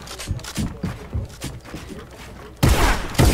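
Gunfire in a video game: a run of sharp, evenly spaced shots, then a louder, denser burst near the end, close and punchy with no talk over it.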